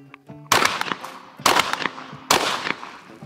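A Franchi Affinity 3 Waterfowl Elite 12-gauge inertia-driven shotgun fires light target loads outdoors: three loud, sharp blasts spaced about a second apart, each trailing off into a short echo.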